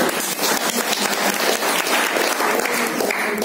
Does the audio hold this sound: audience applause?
yes